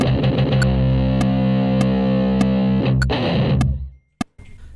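Playback of a recorded electric guitar take, distorted and effects-laden, holds sustained chords with rhythmic picked accents for about four seconds, then cuts off into a couple of sharp clicks.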